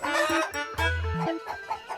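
A chicken clucks in a quick run of loud, close, strained calls that rise into a longer squawk before trailing off, with no talking.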